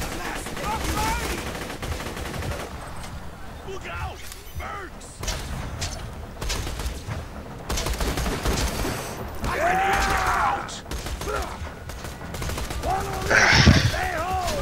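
Gunfire crackles in Borderlands 2, including bursts around rubberized grenades and enemies in a crowded building, mixed with game effects and someone talking over much of it.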